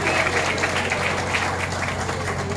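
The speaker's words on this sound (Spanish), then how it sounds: "aplauso." Loud, continuous applause from a crowd at a gathering, a dense roar of clapping with a steady hum beneath, filling the whole short stretch.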